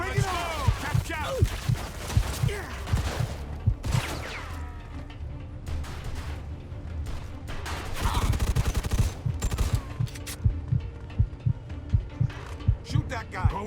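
Gunfire during a hard-difficulty shootout in Mafia 2: Definitive Edition, with repeated sharp shots and bursts in irregular rhythm, loud and close, while voices shout over the battle.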